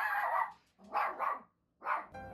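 A dog barks three times, close and sharp, with short pauses between the barks.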